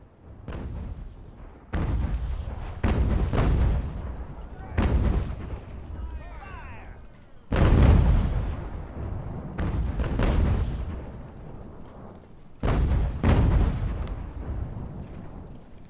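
Cannons firing in the video game Ultimate General American Revolution: repeated deep booming blasts with rolling decay, several spaced shots across the stretch, loud and close, with a voice talking between and over them.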